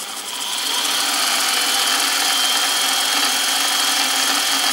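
Spindle of a Precision Matthews PM-25MV mill running at about 880 RPM: a steady, close mechanical hum with a thin high whine that builds in the first half second and then holds constant, with no speech.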